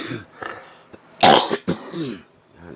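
Someone coughs several times, a harsh, raspy burst in the middle among shorter throaty hacks and throat clearing, close and loud.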